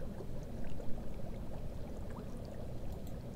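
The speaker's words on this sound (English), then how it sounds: "Do you hear the sound of boiling water," Boiling water bubbles faintly and steadily in the horror game Nightmare Frames, a low, continuous seething texture with small scattered pops.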